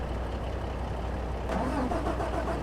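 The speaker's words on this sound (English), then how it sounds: "let's turn this engine on," A tractor engine starts up in the Farming Simulator 25 video game, a low steady rumble that catches and swells a little partway through, heard alone without talk.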